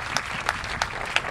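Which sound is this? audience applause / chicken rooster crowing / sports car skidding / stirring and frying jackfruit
audience applause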